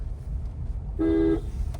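A single short car horn honk sounds over low road rumble, lasting about half a second.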